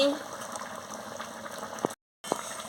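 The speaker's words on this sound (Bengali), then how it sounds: "কি সুন্দর ঘর ঘর করে ফুটছে" A pot of katla fish sour curry with lemon juice and sugar bubbling at a steady boil, close up, with a brief cut of silence partway through.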